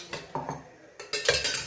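Moong dal paratha being flipped on a pan brings a few sharp metallic scrapes and clinks of a utensil against the cookware, close and fairly loud, in two bursts with a brief lull between.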